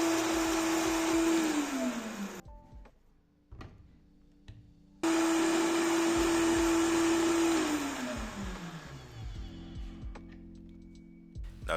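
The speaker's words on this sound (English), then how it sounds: "Go ahead and throw everything in the blender, and bear in mind that this is guaranteed to make you sneeze when you start to blend." A blender grinds whole spices for an oxtail spice blend, with two loud whirring bursts that wind down in pitch, separated by a short pause and a few knocks.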